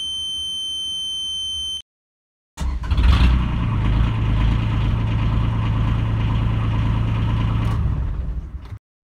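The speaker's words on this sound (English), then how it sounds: "Let's start the engine." A diesel-powered Honda Insight conversion starts after a steady electronic buzzing tone from the glow plugs, then settles into a loud, even idle that stops abruptly near the end.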